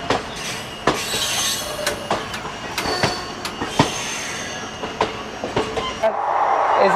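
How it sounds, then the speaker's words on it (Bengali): The 13509 Asansol Gonda Express running on rails between junctions, heard from inside the train as a steady rumble with regular clicking wheel joints and squeals, ending in a louder, closer roar. "ট্রেনটা ছেড়ে দিল একবারপুর জংশন থেকে"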